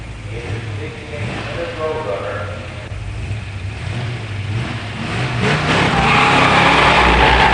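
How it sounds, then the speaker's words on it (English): Drag race pitting a 1969 Mustang with a 428 SCJ four-speed against a 1968 GTX 440 four-speed: engines rumble and rev beneath an announcer's voice, rising to a louder, harsher roar near the end. "In the near lane, Chet Varner, 69 Mustang, 428 SCJ 4-speed. In the far lane, Joe Schenfeld, 68 GTX 440 4-speed"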